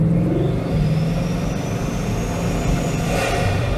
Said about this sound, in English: it does in this one because the induction noise that you're getting rather than exhaust noise